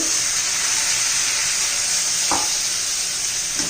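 Raw papaya curry, already mixed with spices and fresh coriander, hisses in a steady close sizzle as water goes into the hot pan, with one brief stirring knock partway through and no talking.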